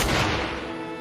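A single loud gunshot in the horror game Martha Is Dead, a sharp close blast with a booming tail that fades over a second.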